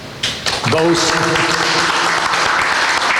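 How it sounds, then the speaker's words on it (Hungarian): An audience at a talk on ordinary fascism breaks into sustained applause, a broad dense wash of clapping that rises quickly and holds steady, with a voice speaking briefly over its start. "Both deserves applause."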